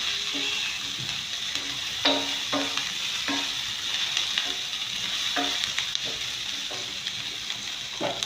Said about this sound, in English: So I'm going to fry it a little. I'll stir fry it for 3 minutes.